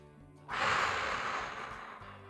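A single long, audible exhale through the nose and mouth during a neck stretch, a close breathy rush that rises suddenly and slowly fades.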